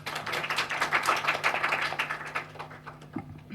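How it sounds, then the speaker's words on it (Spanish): Audience applause at a university literature colloquium panel: a steady patter of many hands clapping together, moderately quiet, with no voices over it and a brief thump near the end. "Aplausos, por favor."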